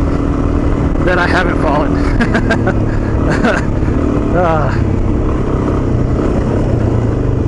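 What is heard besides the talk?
dual sport motorcycles riding off-road trails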